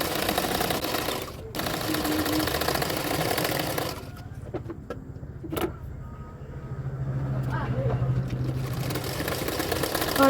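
A sewing machine stitching a blouse in bursts of rapid, rattling whir, stopping briefly around the middle with a few clicks and handling sounds before running steadily again.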